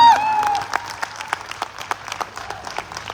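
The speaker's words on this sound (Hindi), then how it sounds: "एक बार जोरदार ताली हो जाए।" Audience members at a network marketing seminar in Haridwar clap, starting as a brief burst and thinning into scattered, sharp individual claps spaced irregularly across a quiet room.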